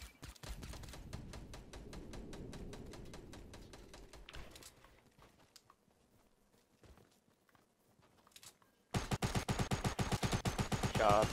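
Rapid SMG bursts in a Fortnite match, with a dense rattle of shots at the start, a quieter stretch of scattered pops, then a loud, close burst of fire at the end.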